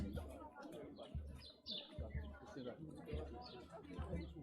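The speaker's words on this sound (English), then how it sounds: "I hear those birds." Small birds chirp and tweet in an urban setting, scattered high calls repeating throughout, faint beneath people talking over them.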